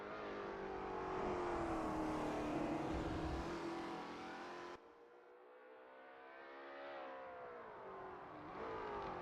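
Lola T70 MkII Spyder race car in a video game, driving a practice out lap at Road America: a loud engine revs and shifts through gears, dropping off abruptly midway, then building again.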